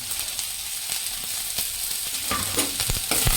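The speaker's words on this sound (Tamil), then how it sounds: "நல்லா வதங்கட்டும்" Onions, green chillies and curry leaves sauté with mustard seeds in hot oil for a Tamil tomato dish, a steady close sizzle with stirring scrapes and clinks toward the end.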